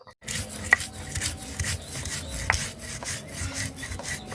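Fried green chillies and spices are ground by hand on a stone grinding slab, a rhythmic rasping rub repeating in slow strokes, close and moderately loud with occasional sharper scrapes.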